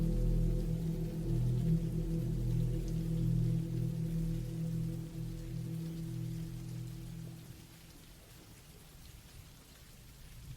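Steady rain falls continuously with a low rumble beneath it, dense and even throughout, gradually softening toward the end with no voices.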